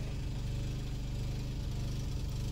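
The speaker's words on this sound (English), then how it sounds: "the sound of the generator in the background" A generator drones steadily in the background, a low, even mechanical hum with a faint rumbling vibration, quiet and unbroken, with no voices.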